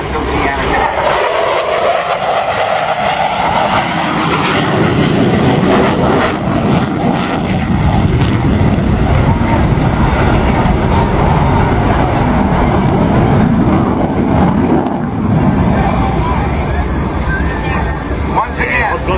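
An F-14 Tomcat jet flies an upright roll at an airshow, its engine roar swelling and then fading in a long continuous rush while a voice talks over it.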